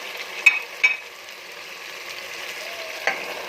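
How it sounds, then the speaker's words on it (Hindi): Potatoes and peas fry in masala in a pan, giving a steady soft sizzle with a few sharp scraping taps of a spoon near the start and one more near the end. "इसको हम 2 से 3 मिनट्स के लिए फ्राई कर लेंगे।"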